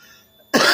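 A single sharp, loud cough bursts out abruptly after near silence and holds briefly, close to the microphone.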